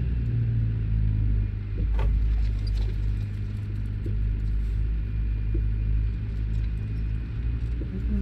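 A truck in American Truck Simulator rolls along the road with a loud, steady low engine drone and rumble, a few faint clicks and knocks sitting over the constant hum.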